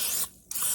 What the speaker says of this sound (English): I'm going to spray this again because it is an egg and I don't want it to stick.